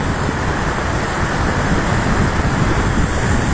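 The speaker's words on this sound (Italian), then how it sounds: "Fa un po' paura il mare oggi, però la Sicilia è sempre bella." Rough sea surges against the Sicilian shore in a constant, loud roar of crashing surf, broad and unbroken, with wind buffeting the microphone and no voices.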